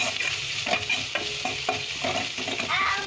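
Garlic paste, salt and chili powder sizzle in a hot pan as they are stirred, giving a close, continuous frying hiss with scraping stir sounds and small crackles.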